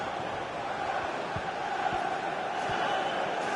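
Stadium crowd at a Chelsea–Manchester United football video game match, a broad sustained roar of many voices with scattered thuds, steady and fairly loud throughout.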